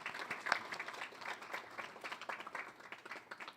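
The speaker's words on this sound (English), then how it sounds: "Give them a round of applause for the work they're doing." An audience at a university athletic hall of fame awards ceremony gives a round of applause, a moderate crowd clapping in lively uneven bursts with distinct individual claps, fairly close.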